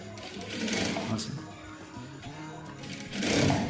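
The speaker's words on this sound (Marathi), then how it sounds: "असं टीप मारून घ्यायची मार्किंगच्या आतल्या साईडनं टीप मारायची आहे" A sewing machine stitches a shirt collar in short bursts of rapid mechanical whirring. A person talks throughout, partly over the stitching.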